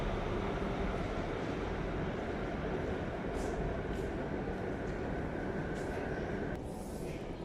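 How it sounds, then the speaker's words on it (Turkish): A steady low rumble of an airport-bound metro train with hissing and a whining tone, continuous and moderately loud as it moves through Göktürk metro station, Istanbul. "havalimanına giden tren Yurtluk'tan geldi havalimanına gidiyor."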